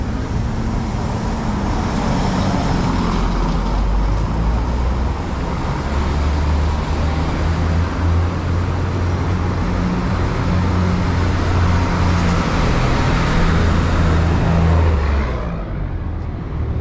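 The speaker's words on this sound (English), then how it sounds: "noisy city traffic." Busy city street traffic in Veracruz, Mexico, a steady, loud roar of cars, buses and trucks with engines rumbling and vehicles passing close by throughout.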